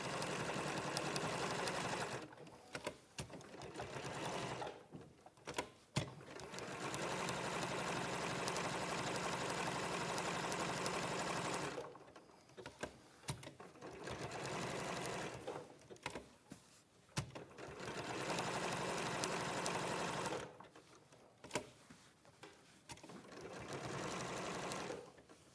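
A sewing machine stitches around raw fabric edges and facial features in black thread, running in several long steady whirring bursts separated by short pauses, close and clear.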